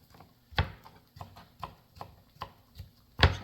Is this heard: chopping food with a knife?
yes